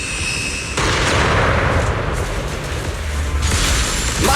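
Gunfire and booming impacts from the video game Zenless Zone Zero, a dense, loud burst of layered shots and blasts that sets in sharply under a second in and continues steadily, with a brighter surge near the end.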